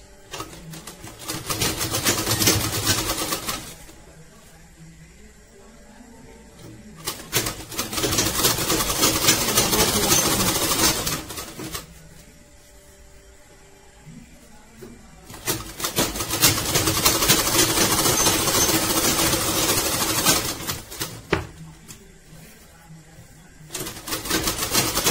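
A sewing machine stitches a pillow cover in long loud bursts of rapid mechanical rattling, each run lasting several seconds and separated by quiet pauses.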